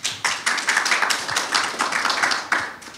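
Audience clapping after a speaker is thanked at an engineering association talk, a sparse, close patter of individual claps with a few sharper louder hits, steady for about three seconds.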